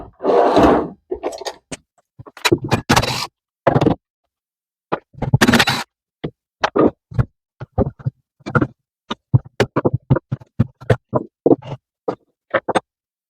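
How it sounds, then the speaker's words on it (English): The oily muffler comes off a Stihl MS 180C chainsaw that sat unused for years, a close, irregular run of sharp clanks, clicks and short scrapes with brief pauses between. "Let's pop this muffler off, check the spark arrestor"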